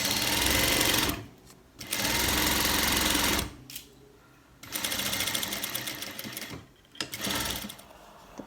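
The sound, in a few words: sewing machine stitching cargo pant leg holder seam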